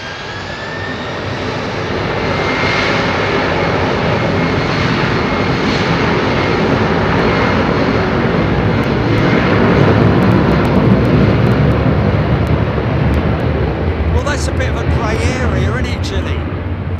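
A FT One Air Boeing 747 freighter departs Heathrow runway 27R, its jet engines building to a loud, sustained roar that swells steadily and holds across the clip. A faint voice is heard near the end.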